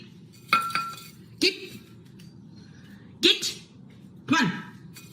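Glass Christmas tree ornaments clink as a cat moves around inside the tree, four brief, separate bright chinks with rustling, each followed by a short ringing tail.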